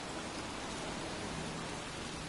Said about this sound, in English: It's cold, it's raining, I'm standing outside getting soaked.